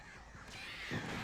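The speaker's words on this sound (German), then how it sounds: "Oh, schon wieder Vögel." Crows caw in the video game Alan Wake, a few harsh calls over a steady ambient game backdrop, moderately close and fairly faint.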